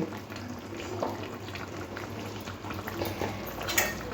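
A light singhi fish curry with potato and green plantain bubbles in a pot, a soft, close, steady simmer with small pops and no talking.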